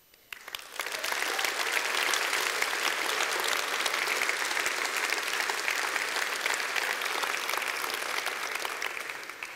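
Sustained applause from a party congress audience after a political speech, a dense steady clapping that rises quickly and holds loud throughout with no speech over it.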